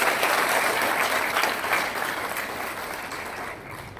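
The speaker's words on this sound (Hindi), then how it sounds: "इतने पर यार जोर से मोदी जी के लिए ताली बजाएं।" An audience at a political speech breaks into loud, sustained applause that gradually fades toward the end, with no talking over it.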